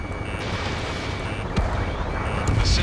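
In the combat flight game Ace Combat 7: Skies Unknown, gunfire and jet roar over a city come through as a loud, continuous rumbling wash, with a sharp blast midway and a louder surge near the end.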